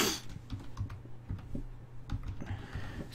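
Quick, irregular keystrokes on a computer keyboard tap out a short burst of typing, soft and close, with small clicks scattered over about three seconds.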